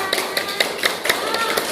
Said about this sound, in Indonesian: Beri tepuk tangannya juga.